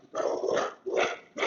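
A dog barks three times at a delivery truck, each bark loud, close and gruff with a slight growl, spaced about half a second apart with no voices.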